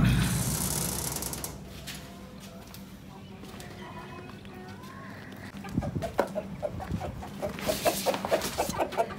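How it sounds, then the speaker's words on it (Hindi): Rooster and hens in a home organic garden, with intermittent clucking and bird calls over background rustling and mechanical clatter; bursts become busier toward the end. "एक मुर्गा है और कितनी मुर्गियाँ? और ये 2 मुर्गियाँ हैं"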